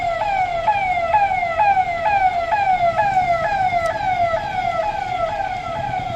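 A police patrol vehicle's siren wails in a repeating rising sweep, loud and steady throughout, with road traffic rumbling underneath and no speech.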